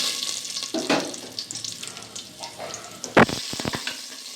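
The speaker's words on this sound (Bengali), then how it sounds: "বাদামটা ভাজা হয়ে গেছে।" Peanuts fry in a pan with a steady close sizzle, broken by a few scraping stirs and a louder clatter of clustered knocks near the end, with no voices.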